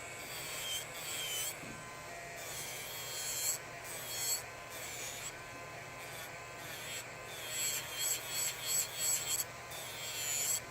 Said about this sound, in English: I'll be doing some shape filing with a hand file.